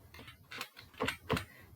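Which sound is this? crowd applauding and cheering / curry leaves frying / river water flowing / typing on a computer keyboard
typing on a computer keyboard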